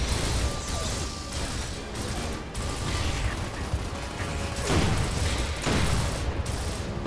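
Gunfire from a co-op video game campaign played on hard, aimed at shooting out lights, sits under a busy, cluttered game soundscape, with scattered crashes and mechanical clatter.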